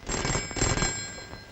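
A telephone bell rings with a bright, rattling trill over a noisy background, then cuts off partway through.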